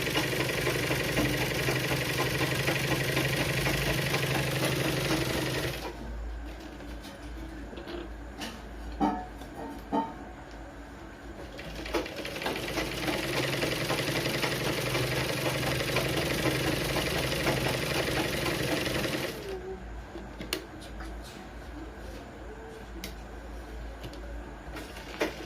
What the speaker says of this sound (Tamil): 4 இன்ச்சுக்கு சுற்றி தையல் போட்டுக்கலாம்.